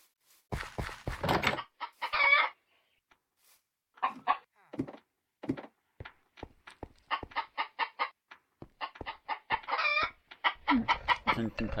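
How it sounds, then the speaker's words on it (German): Video-game chickens cluck in a steady run of short, close bursts with brief pauses between, sometimes rising into louder squawks, with no voices. "Außerdem sind das Hühner, ne?"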